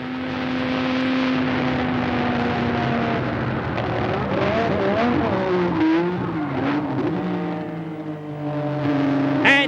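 Onboard a Formula 1 car at Imola, the engine screams loud and close as it accelerates through the gears, pitch climbing and dropping with gear changes and a final sharp rising whine.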